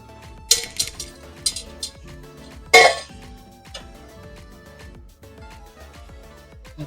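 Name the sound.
shrimp put back into the pan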